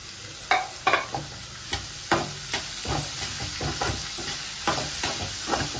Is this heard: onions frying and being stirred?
yes